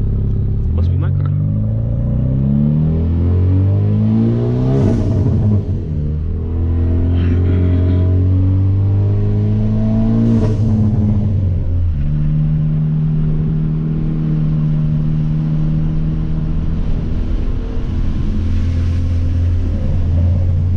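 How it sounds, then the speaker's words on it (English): Hyundai Veloster Turbo with bolt-on upgrades and a tune, its engine droning and rising under acceleration, loud and continuous throughout, with people talking inside the car over the engine. "Is that your loud car? Is that my car?"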